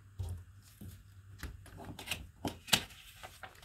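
Scissors cutting out a traced image from a glossy magazine page for a mixed-media craft project, giving a run of short, close snips and paper rustles with a few sharper clicks.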